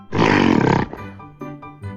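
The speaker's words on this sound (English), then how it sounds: "G is for gorilla." A gorilla gives a single loud, harsh roar lasting under a second, followed by quieter low grunting and rumbling.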